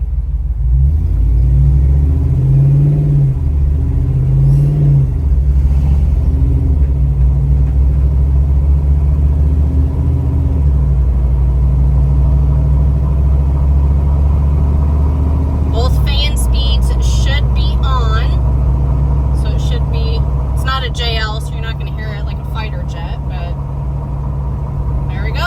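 Inside a Jeep with a 392 HEMI engine driving along, a constant loud low rumble of engine and road, while a person talks over it.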